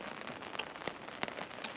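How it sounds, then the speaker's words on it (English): Rain falls on the canopy of a Zempire Pronto 4 tent at a campsite, a steady patter with scattered sharper drops tapping close by. "the rain pulls on this canopy"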